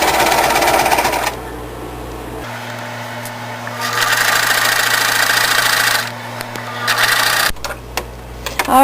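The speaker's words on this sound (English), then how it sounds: "I have finished stitching my top to my backing" A sewing machine stitches a baby quilt top to its backing with a loud, steady mechanical whir. The motor pauses briefly, then starts up again in several separate runs.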